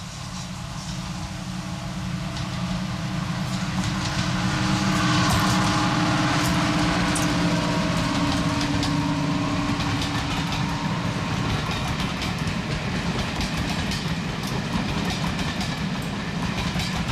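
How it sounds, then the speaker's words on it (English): Royal Scots Grey, a locomotive on the East Lancashire Railway, rounds the curve at Olive Sidings in 2012 with a loud, close, sustained engine roar and rail rumble, rising briefly and then holding steady throughout. "Royal Scots Grey is then seen round the curve at Olive Sidings."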